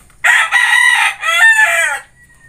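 Young McQueen Hatch chickens, about six to seven months old, crow loudly and close by in two long drawn-out calls, with clucking mixed in. No one speaks.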